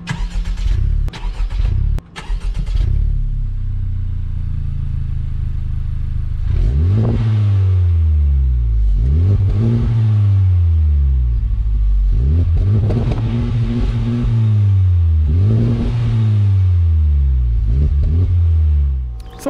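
A 2021 Honda Civic Type R accelerates hard, its center resonator exhaust outlet giving a throaty note that rises through several repeated revving pulls, loud and close, after a few brief clunks at the start.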